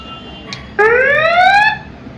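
Electronic alarm tone from a vibration sensor module in a sensor kit, a single rising warbling siren-like sweep lasting about a second, loud and close, preceded by a faint click.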